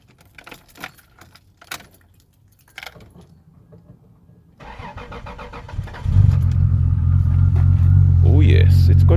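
Keys jangle briefly, then a Toyota Supra Mk3 3.0 engine with a new battery cranks and catches, settling into a loud, steady idle rumble.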